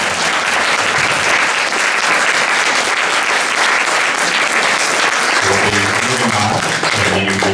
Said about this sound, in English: can we get a round of applause for our candidates?